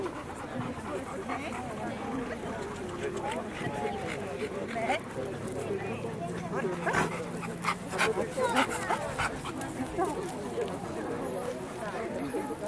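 A dog shown in the ring at a breed dog show in Jedovnice, with brief yips and whimpers heard under steady crowd chatter and an announcer's voice.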